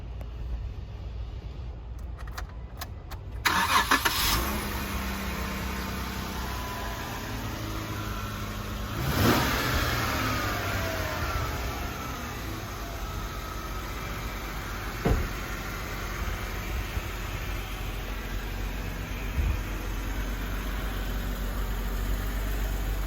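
A 2012 Jeep Wrangler Sport 4x4 with a lift kit cranks over with a brief starter whir, catches, gives a quick rev, then settles into a steady low idle heard from nearby, with no talking.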